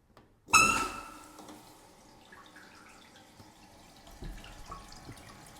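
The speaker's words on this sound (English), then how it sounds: "So we'll just let this fill up and see if it's adjusted right or if we got to do some adjustments." A newly installed toilet's tank refills after a flush, starting with a sudden splashing rush, then settling into a quiet, steady trickle of running water close by.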